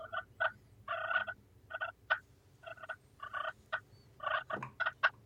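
A turkey game call of Purple Heart wood produces soft, rolling purrs in a series of short, evenly spaced bursts, quiet and close in a still room.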